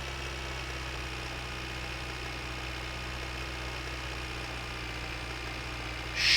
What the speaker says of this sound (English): I know the tractor noise is aggressive, and this is more aggressive than usual.